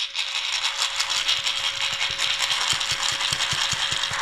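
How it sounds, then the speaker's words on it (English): Small JSB .22 airgun pellets rattle and tick inside a STUD Skout magazine feeder as it is shaken, with rapid rhythmic clicks over a steady background hiss. "All you do is you put them in here, shake them around a little bit."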